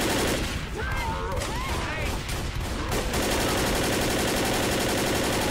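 Rapid bursts of overlapping gunfire fill a Left 4 Dead zombie co-op game, dense and continuous for about three seconds, then settling into a steadier, sustained rattle of shots.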